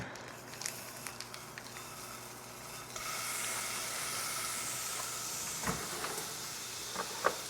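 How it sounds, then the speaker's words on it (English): Chorizo sizzles in a hot skillet as a soft, steady hiss that grows louder partway through, with a few small clinks and pops near the end and no talk. "get a hot skillet and throw my chorizo in to start cooking"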